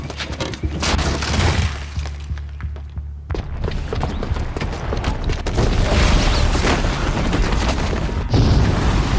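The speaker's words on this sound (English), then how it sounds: "the booby trap on the bomb downstairs is gonna get set off" A loud bomb blast set off by a booby trap in Horizon Zero Dawn, a heavy boom with shattering, crashing debris that rolls on continuously for several seconds.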